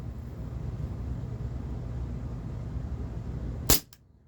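An H&K USP 4.5mm Umarex air pistol fires a single sharp, loud shot near the end, after a steady low background hum.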